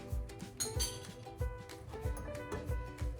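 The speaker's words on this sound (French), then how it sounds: "on mélange avec la cuillère" A metal spoon stirs Moroccan mint tea with sugar, clinking repeatedly against the glass or pot in a steady, close rhythm.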